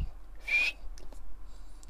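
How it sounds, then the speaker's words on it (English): A person whistles one short, thin, high note, faint and breathy, followed by a few soft clicks and hiss. "Can you whistle? Barely."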